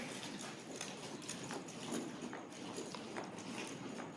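Hooves of a ridden horse working at an active pace in a schooling session, a steady muffled clip-clop of footfalls over a loud, noisy background with no talk.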